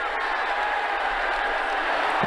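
Stadium crowd in Ashes Cricket 2009 roaring steadily after a huge six, a dense continuous wash of cheering and applause at even loudness throughout.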